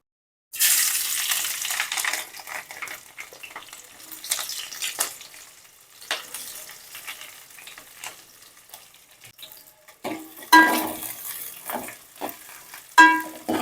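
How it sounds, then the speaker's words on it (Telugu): Chopped green chillies and onions drop into hot oil for prawn biryani, bursting into a loud sizzle that settles into crackling frying, broken by stirring scrapes and clatter, with louder bursts toward the end. "నూనె వేడైంది ఇప్పుడు మనం ముందుగా కోసి పెట్టుకున్న మిరపకాయలు ఉల్లిగడ్డ అలా వేసుకుందాం"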